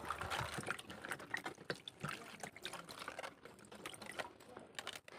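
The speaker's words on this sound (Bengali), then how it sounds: "এখানে একটা গামলার মধ্যে জল নিয়েছি এবার এই পাতাগুলোকে আমি একটু ধুয়ে নেব" Cabbage leaves are swished and rinsed by hand in a bowl of water, giving continuous close splashing and trickling with soft clatters throughout, fairly quiet.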